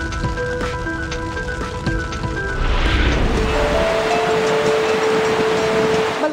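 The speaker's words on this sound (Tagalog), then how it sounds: "Wala pa man yan, matindi na ang ulan sa ilang lugar." Heavy rain in a news report, a mixed noisy opening with tonal hum giving way to a louder, steady close rush of pouring rain in the second half.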